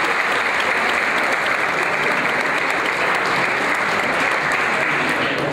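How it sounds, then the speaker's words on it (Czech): Audience at a singing event at a town hall applauds loudly and continuously, with dense, even clapping close by and no pauses. "Prosím, potleskejte."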